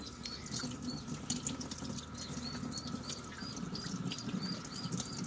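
Tap water runs steadily into an emu eggshell being rinsed out, a continuous close splashing rush with gurgling and dripping textures and no talking.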